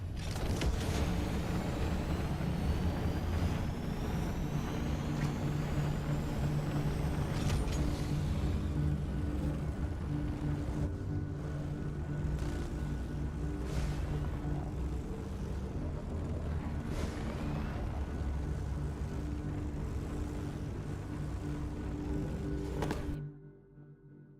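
Jet Beast vehicle engine from Borderlands 3, a steady loud mechanical drone and whine running continuously for over twenty seconds before cutting out abruptly near the end.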